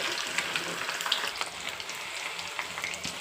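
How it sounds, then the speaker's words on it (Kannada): Chicken pieces frying in hot oil for chicken 65, a steady crackling sizzle with small pops, close and alone, no voices. "ಚೆನ್ನಾಗಿ 2 ಸೈಡ್ಸ್ ಫ್ರೈ ಮಾಡ್ಕೊಳ್ಳಿ"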